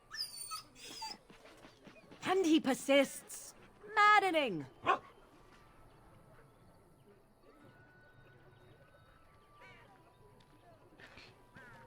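A dog in a fantasy role-playing video game whimpers and gives short barks amid game sounds, with a character speaking loudly over it.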